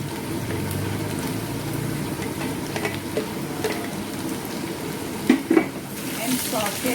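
Ginger, garlic and chilli sauté in a pan with a soft continuous sizzle, punctuated by occasional stirring scrapes and utensil clinks close by, and no one speaking.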